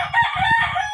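One loud, close rooster crow from a rooster with a cough and wheezing, a brief harmonic call lasting about a second.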